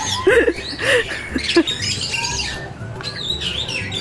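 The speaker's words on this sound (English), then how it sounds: "So many birds." Small blue and pink pet birds chirp and squawk close by in a busy, overlapping chatter, with a person's voice mixed in.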